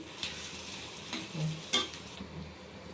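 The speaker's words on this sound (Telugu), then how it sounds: "ఇప్పుడు ఇట్లా కలుపుకోవాలి చక్కగా" Prawns coated in ginger-garlic paste being stirred in a frying pan, giving a faint, quiet sizzle with a few soft scraping strokes of the spoon against the pan, close and without talk.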